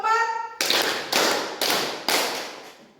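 A school class of eighth graders claps in a counted rhythm, four sharp, loud group claps evenly spaced after a short spoken cue, each ringing briefly in the room.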